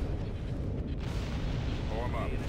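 Dense, continuous rumbling barrage of weapons fire from a space battle in the strategy game Empire at War, loud and sustained throughout, with a faint voice near the end.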